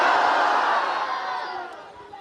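A large crowd at a naat gathering roars out a slogan together, a loud, dense wall of massed voices that holds and then slowly fades over about two seconds.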